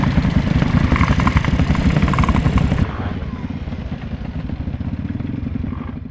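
A scooter motor runs close by with a rapid, vibrating putter that is loud at first and then drops to a lower, steadier rumble.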